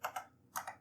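Keys clacking on a TRS-80 Model 3 computer keyboard, two quick strokes, a short pause, then two more, close and fairly quiet with no voices.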